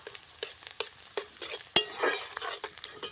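Cardamom seeds stirred into fried onions in a pan while making achari chicken: soft sizzling under quick spoon scrapes and taps against the pan, close, with one sharper clack midway.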